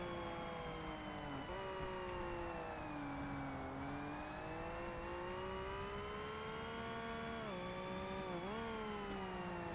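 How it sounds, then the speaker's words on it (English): A steady, droning car engine in Forza Motorsport rises and falls in pitch, revving up and easing off continuously with no pauses, sounding synthetic and game-like. "it revs up and then it just stops revving"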